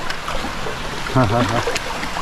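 Someone splashes into cool valley stream water at Jingwansa on Bukhansan: a brief watery slosh and trickle over a steady background rush, with a voice letting out a short exclamation midway.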